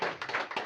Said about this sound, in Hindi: मैं चाहता हूँ एक बार उनके लिए जोड़ो ताली हो जाए